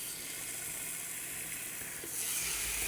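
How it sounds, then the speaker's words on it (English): Meat dropped into hot oil in a home kitchen, a steady close hiss of sizzling that swells louder near the end, with no talk. "Pop the meat down, and of course, you hear the sizzle."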